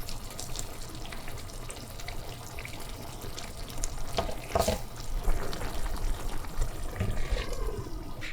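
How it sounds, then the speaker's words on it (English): Pot of water on a steady rolling boil for cooking spaghetti, a continuous bubbling and hissing wash with occasional louder pops, close and moderately loud, with no talking. "the water is boiling nicely"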